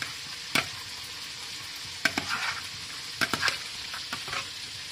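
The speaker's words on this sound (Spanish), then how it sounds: "Vamos a agregarle sal y vamos a batir esto muy bien." Nopales salad with salt being beaten and stirred in a bowl, giving a few short scraping clatters that stand out sharply against a steady background hiss, with no talking.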